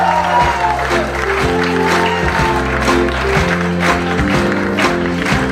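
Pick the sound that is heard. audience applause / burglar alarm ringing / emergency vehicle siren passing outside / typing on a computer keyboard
audience applause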